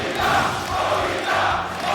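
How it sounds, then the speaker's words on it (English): A French crowd at a Super Smash Bros. Ultimate tournament roars and cheers loudly and continuously, a dense wash of voices swelling in waves throughout. "The French crowd erupting"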